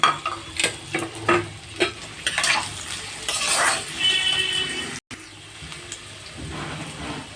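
Beetroot sizzles in hot oil left over from frying coconut, while a utensil scrapes and stirs the pan in steady rhythmic strokes. The frying is loud and close throughout.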